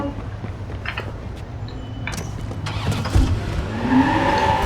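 A sports car engine in the game Watch Dogs 2 idles and then revs up, a loud, close mid-pitched engine tone that climbs and swells toward the end.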